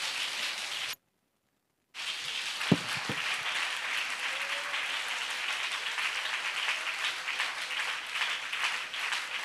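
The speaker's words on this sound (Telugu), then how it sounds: "గట్టిగా చప్పట్లు కొడుతూ ప్రభుని మహిమ పరుదాం" A church congregation at a gathering claps loudly in praise, a dense, steady wash of many hands beating together, broken by a brief gap before the continuous applause resumes.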